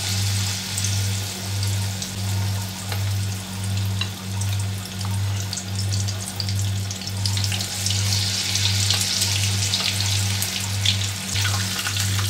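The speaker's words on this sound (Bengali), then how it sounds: "একটা একটা করে তেলের মধ্যে ছেড়ে দেব।" Battered chicken pieces deep-frying in hot oil for a crispy chicken fry. A steady, close bubbling hiss continues throughout over a regular pulsing low hum.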